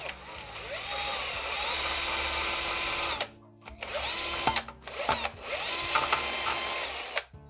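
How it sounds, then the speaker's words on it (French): A small cordless screwdriver spinning a brush to clean a wheel centre, whirring loudly in three close bursts separated by short pauses, with no voices over it. "on prend notre petite perceuse et on vient, visseuse pardon, et on vient faire l'action avec."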